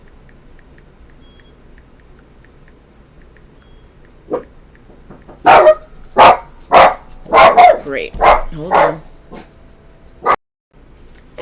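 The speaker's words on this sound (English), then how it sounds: "There was a delivery and my dog started barking" A dog barks at a delivery at home: a quick run of loud, close barks in bursts, with a short spoken phrase nearby.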